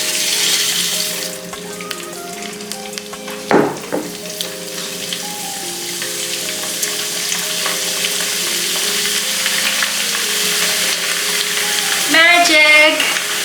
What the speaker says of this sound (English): Let's deep fry some of them first.